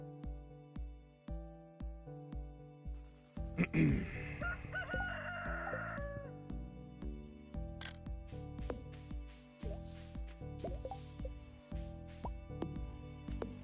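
In the Stardew Valley 1.6 farm game, a rooster crows once, loud and close, over steady background music notes, followed by scattered soft clucks and small game sound effects.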